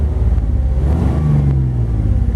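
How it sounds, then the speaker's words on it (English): A 1957 Chevrolet Bel Air convertible LS-1 resto mod with a 4L60E automatic idles close by, its exhaust giving a deep, even rumble that rises briefly in a gentle rev. "Hear the exhaust, it just sounds beautiful"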